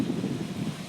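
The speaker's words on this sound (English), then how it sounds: "It is windy" Outdoor wind on a blustery day in a Las Vegas backyard rushes as steady, low broadband buffeting against the microphone, with no voices.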